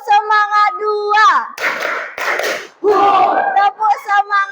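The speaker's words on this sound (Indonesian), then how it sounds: "Tepuk semangat 2." Schoolchildren in a classroom chant a rhythmic spirit-clap routine together, sung voices alternating with sharp bursts of group clapping in a patterned beat, loud and close.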